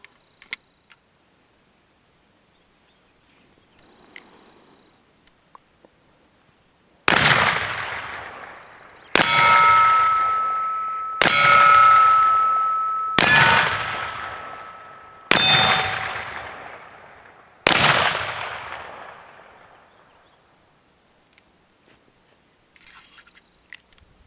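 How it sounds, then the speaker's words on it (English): Cap and ball revolvers fired outdoors, five loud sharp shots in a fairly even sequence, each with a long ringing decay, between quieter stretches of handling noise. "We're now ready to go shoot."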